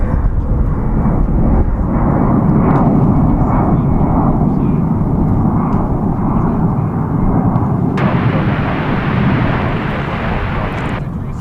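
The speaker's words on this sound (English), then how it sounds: "Our next departure will be Flight 1923 American Airlines to Jackson, Mississippi. It'll be an Airbus A319." American Airlines Airbus A319 departing DFW International Airport, a steady loud jet engine roar that holds through and brightens sharply near the end, with some wind buffeting on the microphone.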